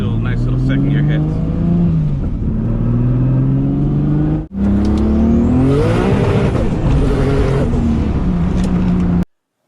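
A turbocharged car with a Tial MV-R wastegate accelerates hard in second gear, its engine note loud and rising in pitch, then dropping briefly at a shift before climbing again and cutting off abruptly.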